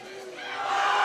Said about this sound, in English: Lots of support from the crowd there.